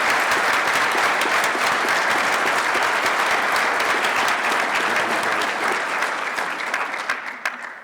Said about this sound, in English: Could we have another round of applause for this wonderful family?